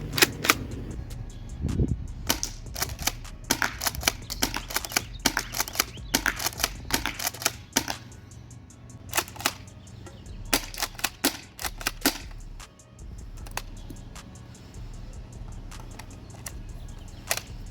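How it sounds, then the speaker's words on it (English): A FABARMS STF12 airsoft shotgun firing repeatedly, sharp close snapping shots in irregular bursts with quick mechanical clacks of the pump between them, a few rapid slam-fire runs. "that was the shooting of the gun"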